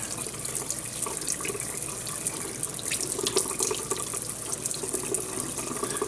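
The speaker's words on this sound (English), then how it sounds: "water's flowing fairly clear out of that" Tap water running steadily through a Camlin fountain pen to flush out stubborn ink, a close continuous splashing stream into a sink.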